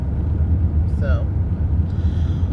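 Steady low road rumble inside a car driving home from a 12-hour work shift, a constant close drone with a brief voice sound partway through.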